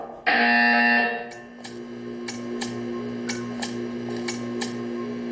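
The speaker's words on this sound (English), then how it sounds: "You will hear a buzzer. When you hear the buzzer, stare at the art." A loud, steady electronic buzzer from the Portal 2 video game sounds once for about a second, then cuts off, leaving a quieter, rhythmic ticking against a low hum.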